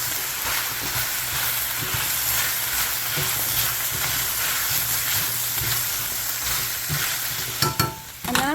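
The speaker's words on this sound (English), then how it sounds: "I'm going to give it a good stir." Brussels sprouts with bacon and chicken sizzle steadily in a hot pan while being stirred, a continuous close frying hiss with soft scraping, ending in a few louder clattering stirs.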